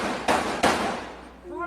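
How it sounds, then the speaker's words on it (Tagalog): Two sharp gunshot cracks about a third of a second apart, from footage of a shooting at a nighttime campaign rally in Cagayan, heard over a steady noisy background with faint voices toward the end. "Rinig sa video na ito ang sunod-sunod na putok ng mga baril."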